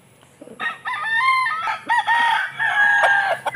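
A gray gamefowl stag crows close by, a loud drawn-out cock-a-doodle-doo with several rising and falling syllables, and faint farmyard clucks sit beneath it.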